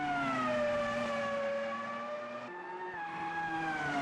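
A racing car engine in the game Automobilista 2, heard from outside, drones steadily past at high revs, a sustained harmonic whine that shifts pitch midway as the car changes gear.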